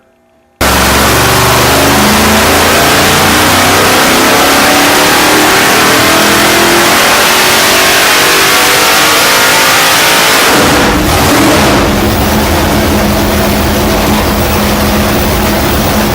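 A 600-cubic-inch Nelson Racing Engines V8 on a dyno pull roars loudly and steadily as it climbs through the revs, then abruptly drops off and settles into a lower drone near the end.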